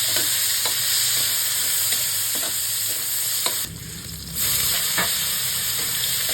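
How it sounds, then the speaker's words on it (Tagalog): Garlic and onion sautéing in a hot pan, a steady loud sizzle broken by repeated sharp scrapes and stirs of a utensil, with a brief dip in the frying noise midway. "Simulan na nating igisa ang bawang at isunod natin ang sibuyas."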